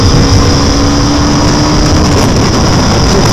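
A KTM Duke 250 Gen 3 motorcycle engine runs hard at speed in fifth gear, a loud, steady, continuous drone with wind noise throughout.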